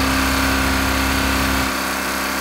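A car engine run without oil drones steadily and loudly, holding a constant roar that eases slightly near the end, with no voices.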